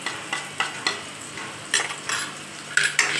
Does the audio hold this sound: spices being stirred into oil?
yes